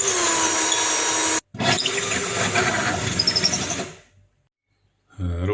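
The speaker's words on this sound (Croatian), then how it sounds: "sada je vrijeme da probušimo rupu sa donje strane, tako da kabel može proći gore" A power drill boring a 10 mm hole for LED strip cable under kitchen cabinets, a loud close whine running in two bursts with a short break, trailing off, then starting again briefly.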